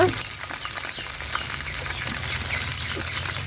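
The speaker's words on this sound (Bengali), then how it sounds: "তো মাংস আমার এগুলা ভাজা হয়ে গেছে লাল লাল।" Chicken pieces fry in oil, Chinese-restaurant style, until reddish, making a soft steady sizzle and bubbling. A brief clatter sounds at the very start, and there is no clear talk.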